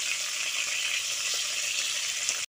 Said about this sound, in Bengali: সব ম্যারিনেট করা মাছগুলো আমি তেলের মধ্যে দিয়ে দিয়েছি। মাছটা এক পিঠ ভাজা হয়ে গেলে উল্টে দিচ্ছি।